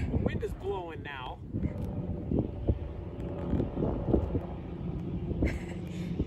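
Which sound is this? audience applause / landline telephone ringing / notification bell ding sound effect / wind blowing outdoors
wind blowing outdoors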